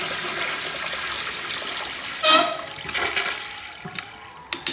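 A rebuilt Sloan flushometer valve flushes with a loud rushing gush of water, then settles into a trickling, hissing refill as it primes and shuts off, heard up close with no talk.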